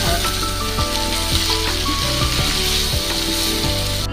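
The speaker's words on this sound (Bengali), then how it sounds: "তারপরে দেবো কাশ্মীরি লঙ্কার গুঁড়ো, দিয়ে ভালো করে নাড়াবো।" Kashmiri chili powder sizzles loudly as it is stirred into frying prawn masala, a continuous close hiss with faint scraping and clinks of stirring.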